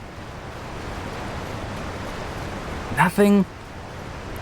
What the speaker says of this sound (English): All right, waterfall.